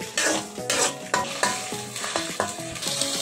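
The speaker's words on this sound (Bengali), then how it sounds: "দিয়ে দিচ্ছি পেঁয়াজ তেলের মধ্যে" Onion and spice paste fry in hot oil for a chicken and pineapple dish, giving a steady close sizzle broken by repeated scraping and clinking stirs in the pan.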